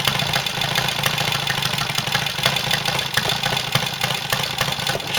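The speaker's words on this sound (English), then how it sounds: "she's now idling beautifully" A 1966 Triumph TR6SR motorcycle engine idles close by after a cold start with a rapid, even knocking putter, steady and unbroken throughout.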